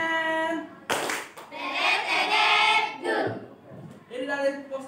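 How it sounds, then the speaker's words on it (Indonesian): Children perform the 'tepuk Superman' clapping chant at a school, a burst of quick group hand claps mixed with young voices, starting loud after a pause and recurring near the end. "Tepuk Superman."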